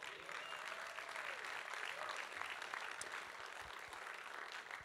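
A church congregation in Brisbane breaks into steady, sustained applause that fills the room evenly, dense and continuous throughout with no voices standing out.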